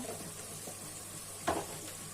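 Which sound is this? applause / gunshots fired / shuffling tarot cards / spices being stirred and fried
spices being stirred and fried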